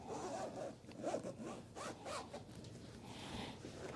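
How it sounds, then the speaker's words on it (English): A zipper runs closed along an Everlasting Comfort footrest pillow cover, a close, continuous rasping drag lasting about four seconds with no voices. "Okay, the zipper is zipping."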